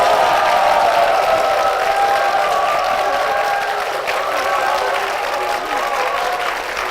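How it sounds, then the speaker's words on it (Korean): A church congregation cheers and applauds in a large hall, with a dense, steady wash of clapping and voices that holds loud throughout and eases off slightly toward the end. "엄청난 환호성인데요."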